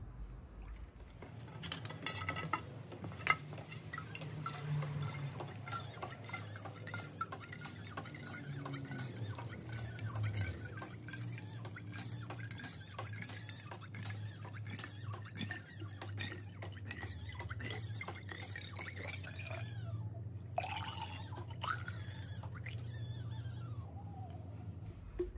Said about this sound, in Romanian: acum vom pune apă în continuare prin partea cealaltă